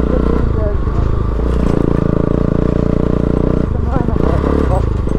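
An adventure-sport motorcycle rides a rough mountain shortcut road from Rara toward Jumla, its engine a steady loud drone with clattering and scraping over the uneven surface throughout.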